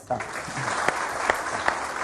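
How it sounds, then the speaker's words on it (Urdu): Crowd applause for Saad, dense steady clapping from many hands at close range with a few sharper individual claps, starting after a brief voice. "سعد کے لیے بہت ساری تالیاں"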